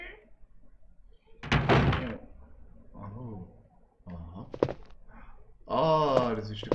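Heavy door opening with a creak and thunk in the PS1 game Resident Evil, several loud mechanical bursts separated by quiet gaps.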